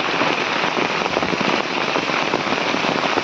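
Steady, dense rain patters hard on a surface, a continuous hiss of drops with no voices.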